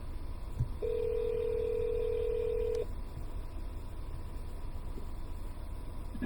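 Telephone dialing tones from a phone used in a car: a short beep, then a long steady tone for about two seconds, over a low idling engine rumble, with no talk.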